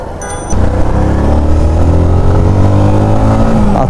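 A Yamaha R15 V2 motorcycle engine cuts in abruptly after a brief clatter and then runs loud and close with a rising, revving whine that climbs steadily before easing, with no speech over it.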